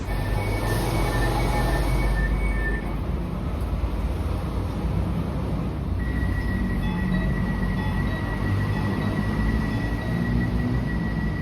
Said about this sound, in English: So the train that we just rode is one of the older series of trains.